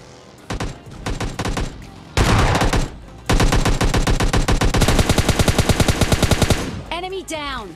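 Automatic rifle bursts and rapid gunfire in the PUBG Mobile Lite battle royale game, loud close volleys in several bursts followed by a long sustained stream of shots, ending with a whooshing effect.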